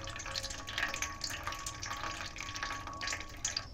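Raw potato starch water being slowly strained, a steady faint trickle and splash of water running continuously with light watery hiss throughout.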